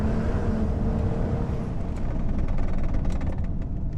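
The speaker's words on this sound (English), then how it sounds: "you can really tell with this car, just how good the turbo sounds" A turbocharged BMW engine fitted with an aftermarket intake runs steadily with a loud low rumble and a faint whistle above it, heard close with no voices.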